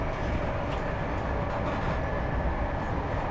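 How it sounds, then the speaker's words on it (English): An HST high-speed train runs through Devon, heard from inside the carriage as a continuous, loud, broadband rumble with steady rolling noise and no pauses. "this is a high-speed train, the whole HST stock service"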